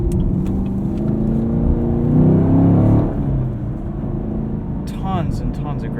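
A 2018 Chevrolet Camaro SS with a six-speed manual rises in a brief engine rev during a heel-toe downshift, then settles back to a rumbling cruise while someone talks over it inside the cabin.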